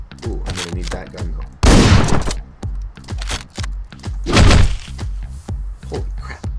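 Rapid bursts of gunfire in the top-down video game Hotline Miami, with several loud volleys and sharp single shots over a thumping soundtrack beat, close and punchy.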